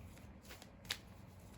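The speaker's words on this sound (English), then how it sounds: "So this card jumped out as I was shuffling, so I'm gonna put it back and reshuffle." A deck of Halloween tarot cards is shuffled by hand, giving soft, quiet riffling and flicking sounds close by. One sharper card snap stands out near the middle.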